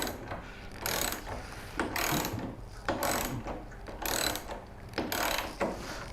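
A long socket wrench ratchets on the wheel bolts of a rolling cabinet base in a workshop, in about six bursts of rapid clicking, close and fairly quiet, alone without talk.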